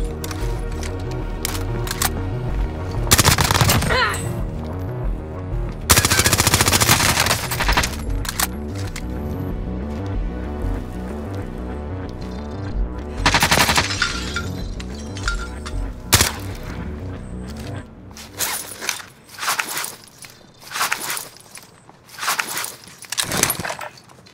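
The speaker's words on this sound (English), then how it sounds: "Receiving hostile fire." Rapid gunfire bursts from a Call of Duty Warzone Resurgence match, loud, dense volleys with sharp shots, heaviest early and midway, thinning into scattered cracks toward the end.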